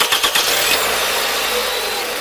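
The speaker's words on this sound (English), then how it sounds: "Now we're going to start the engine and see if everything works." Toyota Camry engine cranking and catching, with a few quick pulses at the start settling into a steady, fairly loud idle.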